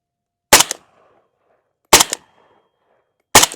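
Suppressed AMD-65 rifle firing supersonic ammunition outdoors, three sharp loud cracks spaced about a second and a half apart, each with a short fading echo.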